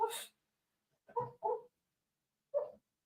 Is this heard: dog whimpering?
yes